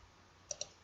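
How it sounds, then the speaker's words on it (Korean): The space bar on a computer keyboard is pressed twice, two faint, quick clicks in close succession against a quiet background. "대자 한자 앞에다 커서를 놓고 스페이스바를 이렇게 누르면 이렇게"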